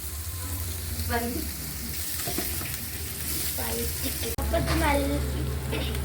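Vegetables with salt are sautéed in a pan for biryani, a close continuous frying sizzle with stirring scrapes and clinks, rising louder after a brief break near the end.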